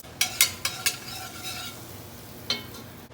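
Butter, about three tablespoons, melting in a pan for a roux for four-cheese baked mac and cheese, with a faint sizzle under a few sharp utensil clicks against the pan and one later scrape.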